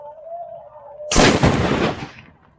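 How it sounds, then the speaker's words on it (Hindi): A Diwali 'Top Tiger' firecracker explodes in one sharp, very loud blast after a faint fuse hiss, its booming roar decaying over about a second. "ये देखो भाई टॉप टाइगर, और भाई इसका साउंड यार काफी ज्यादा हेवी होने वाला है।"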